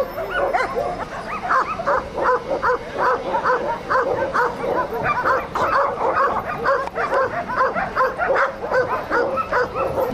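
Dogs at a 2014 Yakutian Laika show bark in constant overlapping yips and bow-wows, loud and close, with barely a pause across the whole stretch.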